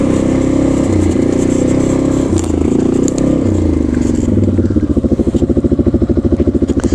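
A Sharmax 650 Force all-wheel-drive quad bike grinding through mud, its engine droning loud and close, then settling into a steady pulsing throb, with nobody talking.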